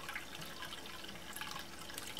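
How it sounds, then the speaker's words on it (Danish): Sweet apple cider trickles from a bottle into a bucket during racking off the sediment, a faint, steady splashing pour with small drips and no talking. "mig, der hælder noget fra en flaske ned i en bøtte"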